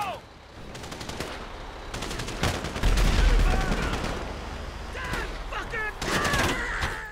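Heavy weapons fire in GTA 5 with a tank firing, loud rapid bursts of gunfire and deep booms, one heavy thump mid-clip, with shouting voices mixed in.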